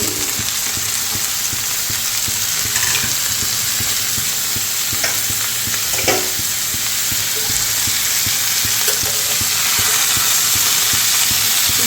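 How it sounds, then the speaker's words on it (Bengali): Broccoli dropped into hot oil sizzles steadily while a utensil stirs and scrapes the pan, with occasional sharper clinks and no voices. "লাল লাল করে ভেজে নিয়েছি এবারে দিয়ে দেবো ব্রকলি"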